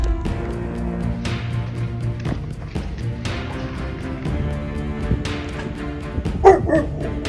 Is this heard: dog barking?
yes